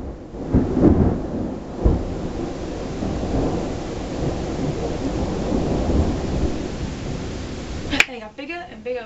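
Thunder rumbles through a stormy sky with steady rain, a broad low roll that swells and lingers over several seconds, ending with a sharp crack and brief chatter of voices.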